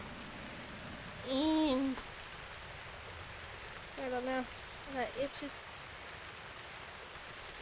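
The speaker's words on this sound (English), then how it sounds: "Let's just enjoy the rain and the music for a second." Steady rain hiss in the video game The Legend of Zelda: Breath of the Wild, a soft, constant wash beneath brief spoken phrases.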